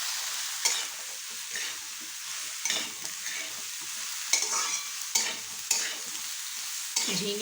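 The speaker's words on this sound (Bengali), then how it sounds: "এবার আমি যে ঝিঙেটা আছে সেই ঝিঙেটা এটার সঙ্গে মিশিয়ে দিলাম।" Ridge gourd is stirred into a pan of frying potatoes and tomato, with repeated spatula scrapes and stirring strokes over a soft, steady sizzle, close and without talk.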